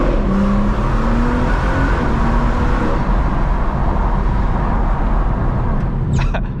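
BMW M240i with a Stage 2 tune in Sport Plus mode accelerating hard at around 70 mph, a steady loud engine and road roar with a rising drone, ending in a few brief crackles.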